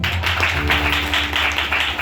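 A church congregation at a Sunday service clapping hands together, a steady run of rapid, close claps in rhythm lasting about two seconds with a faint tone underneath.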